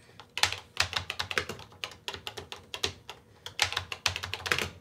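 Fingers type on a Tandy Color Computer keyboard with shallow keys: close, crisp clusters of clacking keystrokes in irregular bursts with brief pauses between them.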